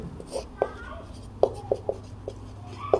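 Marker or chalk strokes squeak and tap across a board in short bursts during a class 12 maths lesson, with a few quiet pauses between strokes.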